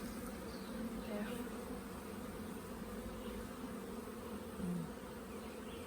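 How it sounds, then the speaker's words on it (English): Honeybees buzz steadily in a dense, close swarm at an observation hive in Dominica, a continuous drone with no talking. "Yes, bees."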